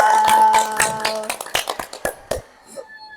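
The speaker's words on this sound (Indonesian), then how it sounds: "Oke, beri tepuk tangan juga untuk pemain 3." Scattered, uneven clapping from a small audience for player 3 in a PAAR simulation game, with a sustained tone fading and sharp individual claps tapering off into quiet.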